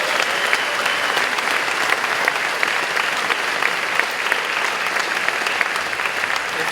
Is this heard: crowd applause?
yes